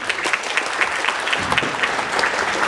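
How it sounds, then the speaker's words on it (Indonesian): Seminar audience clapping for a participant, a sustained, fairly close burst of many hands with sharp individual claps standing out over the steady patter. "kita kasih tepuk tangan buat Mbak Wi"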